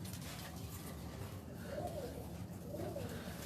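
Pigeons in a breeding loft coo softly and far off, with a couple of low, rolling calls rising over a steady background hum.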